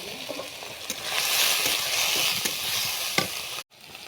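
Small shrimp fry in a pan with salt, chili powder and turmeric, giving a soft steady sizzle with a few scraping stirs. It ends in a brief moment of silence.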